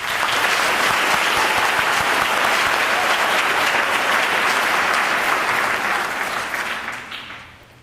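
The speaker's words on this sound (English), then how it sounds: "Can we please give them a round of applause?" Sustained applause from a ceremony audience for a military color guard at an Army retirement ceremony, steady clapping throughout that tapers off and fades in the last second.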